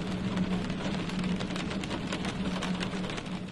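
Rain falls steadily on an open-roof cube cabin out in boreal nature, a soft, even hiss of drops that holds without a break and with no voices.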